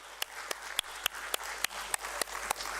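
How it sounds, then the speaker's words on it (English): Audience applause at a stock exchange listing ceremony for a software company at the Bombay Stock Exchange, fairly faint and thin, with distinct individual claps at a regular beat over a soft background of clapping. "a huge round of applause to all of you."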